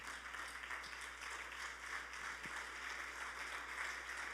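Church congregation applauding during a sermon, a soft continuous wash of many hands clapping, distant and fairly faint over a steady room hum.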